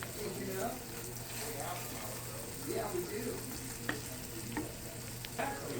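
Egg frying in a pan with bitter gourd, a continuous soft sizzle with occasional stirring scrapes and small clinks, fairly quiet and close, with no talking over it.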